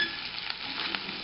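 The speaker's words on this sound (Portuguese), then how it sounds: "Agora é só continuar fritando ela. Vamos fritando em fogo baixo," Pork frying slowly in a pan over low heat gives a soft, steady sizzle with faint crackles and pops, quiet and continuous throughout.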